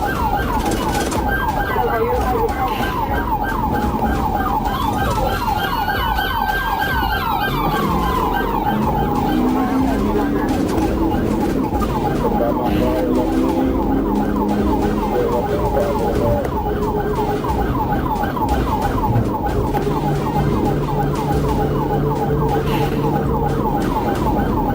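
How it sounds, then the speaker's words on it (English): A police car siren wails continuously and loudly during a high-speed chase, alternating between rapid yelping and slower rising-falling tones, with traffic and engine rumble beneath. "After lights and sirens were activated"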